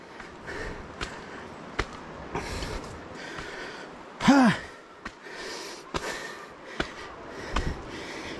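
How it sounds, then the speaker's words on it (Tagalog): Heavy panting from a person climbing stairs at a tourist spot in Agno, Pangasinan: a loud breathy gasp stands out midway, with sharp sniffs, snorts and tired exhalations scattered around it. "Hingal na naman."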